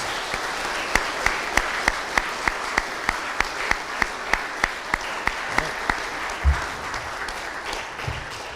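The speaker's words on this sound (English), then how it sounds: "Just give one more big round of applause for all these athletes and coaches." Applause for athletes and coaches at a fall sports school assembly, a broad crowd of clapping with one person's loud, sharp, evenly spaced claps standing out in a steady beat near the microphone.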